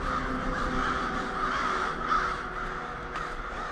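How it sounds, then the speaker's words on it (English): A large flock of crows caws continuously on a walk along Sawmill Creek, many overlapping calls close and fairly loud against a steady outdoor background, with no talking. "is this the biggest fucking gang of crows ever?"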